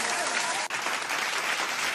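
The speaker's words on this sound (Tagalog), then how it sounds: "Yung palakpak." Canned applause effect from a King soundcard, a loud, dense crowd clapping burst that plays steadily, broken by a brief dropout near the start.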